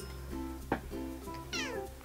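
A house cat meows twice, with short nasal rising calls close by and fairly quiet, over a faint steady hum.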